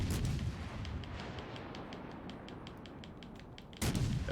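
Warship guns boom in the World of Warships Legends naval battle game, with a heavy salvo at the start and another at the end, and a busy rumbling stretch of distant firing and impacts in between.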